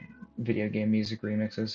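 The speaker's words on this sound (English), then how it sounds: "You can probably hear my cat in the background." A pet cat meows in the background, a few drawn-out, wavering cries running under and between a person's speech in a quiet room.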